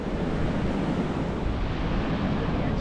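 Ocean waves wash onto a sandy beach on Fuerteventura, a loud continuous roar of surf mixed with wind buffeting the microphone.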